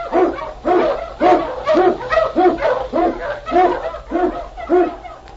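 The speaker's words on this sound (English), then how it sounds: "King, the swiftest and strongest of Eskimo lead dogs, blazes the trail through storm and snow" An Eskimo lead sled dog barks repeatedly as a radio drama sound effect, with steady, loud, close woofs and yips in an even rhythm over several seconds against a hum.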